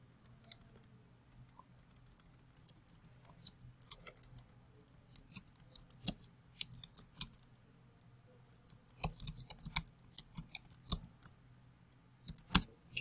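A sentence tapped out on a computer keyboard, with sparse, light clicks arriving in small irregular clusters over a faint steady hum, close and quiet.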